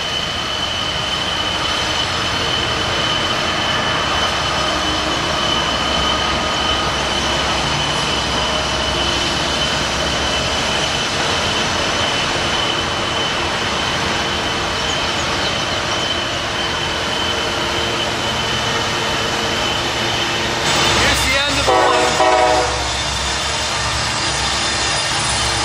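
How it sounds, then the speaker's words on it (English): Locomotives push a train around Horseshoe Curve, a steady broad rumble of engines and rolling cars held throughout, with a brief louder horn-like burst near the end. "Locomotives are pushing it."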